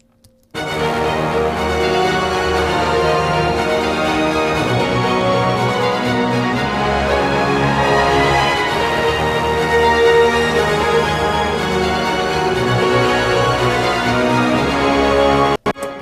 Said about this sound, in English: So string and brass together sounds like this